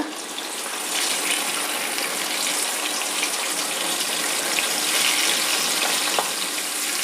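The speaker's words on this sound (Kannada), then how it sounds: "ಎಣ್ಣೆ ಬಿಸಿಯಾಗಿದೆ ಕಾಳನ್ನು ಹಾಕ್ತಾ ಹೋಗ್ತೀನಿ" Avarekalu (field beans) frying in hot oil over a medium flame, a dense steady crackling hiss that swells in after the first second and holds loud and close with no talk.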